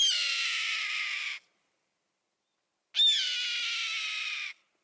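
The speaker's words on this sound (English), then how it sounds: "that's the cry of a red-tailed hawk soaring overhead" Two long, harsh, hissing screams of a red-tailed hawk soaring overhead, each lasting over a second, loud and alone, separated by a second and a half of silence.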